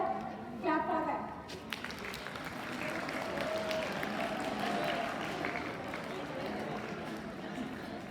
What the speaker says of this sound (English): so we have 2 winners here. Clap for them.